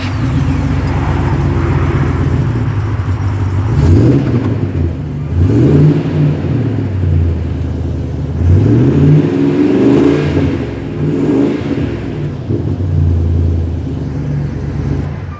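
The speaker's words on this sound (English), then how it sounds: "hear what this exhaust sounds like on the new RPI engine" Car exhaust on a newly fitted RPI engine, idling with a deep rumble and blipped several times in short rising revs, each swelling and falling back, close and loud in a workshop.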